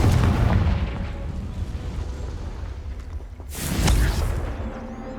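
A fiery Confringo spell blast in Hogwarts Legacy, a booming burst over a dense rumbling backdrop of crackling fire, with a second sharp impact rising near the end.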